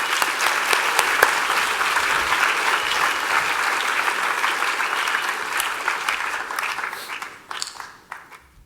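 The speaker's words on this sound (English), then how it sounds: "Let's give them another round of applause, please." A high school assembly audience applauds a choir performance with a sustained round of loud clapping that holds steady, then thins out and tapers off into scattered claps near the end.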